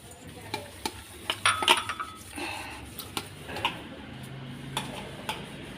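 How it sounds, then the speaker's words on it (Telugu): An older woman washes dishes outdoors. Scattered clinks and knocks of pots and utensils ring out at close range over a faint hissing background, with no voices. "మా అత్తమ్మ అండి బోళ్ళు దమ్ముతూ ఉంది"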